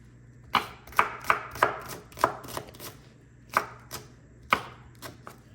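A knife chops a hot pepper on a cutting board: a dozen or so crisp, close thuds in uneven bursts, some quick pairs and some spaced apart, over a quiet background with no talk.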